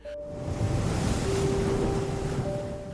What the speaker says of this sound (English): The northern coast features Atlantic waves crashing against rugged cliffs and endless stretches of sand